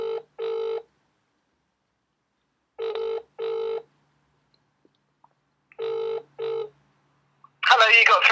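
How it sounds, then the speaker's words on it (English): A phone heard on speakerphone rings out in double bursts, three pairs of ringback tones separated by silent gaps, each clear and close, before a recorded voice answers at the end. "I'm going to ring Jim right now on my phone."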